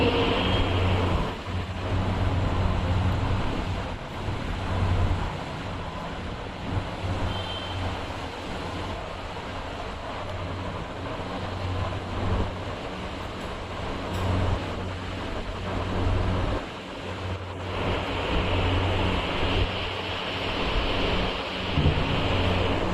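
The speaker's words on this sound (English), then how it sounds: "So I'll pour this water on the first pad, which is soapy." A continuous rushing splash of soapy water being poured steadily onto a sanitary pad, loud and unbroken throughout.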